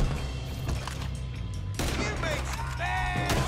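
Gunfire in a Red Dead Redemption 2 shootout, with a few loud close shots and impacts standing out over steady background noise and music, with voices talking between them.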